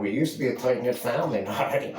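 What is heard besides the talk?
No everyday noises stand out.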